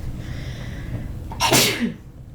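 A single loud sneeze bursts out over a steady low background hum, with a sharp noisy onset and quick fade.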